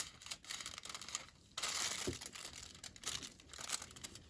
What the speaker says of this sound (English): and then you will close your foil package